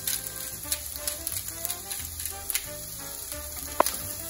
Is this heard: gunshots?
no